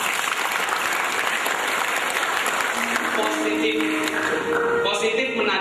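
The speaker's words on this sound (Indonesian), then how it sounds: "Tepuk tangan." Sustained, dense applause from an audience at an Indonesian motivational religious talk on positive thinking fills the whole stretch at steady volume, with a voice or tonal sound rising faintly over it toward the end.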